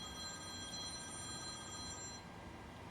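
A telephone rings steadily in a room with a bright electronic tone, faint and continuous over a low background hum, then stops about two seconds in. No one speaks.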